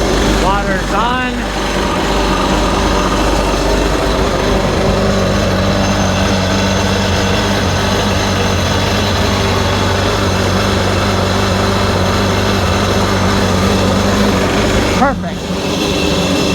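A Sea-Doo GTX Di personal watercraft engine runs on a lake at a steady, loud idle with a droning hum, broken briefly by a short dip and a brief disturbance near the end.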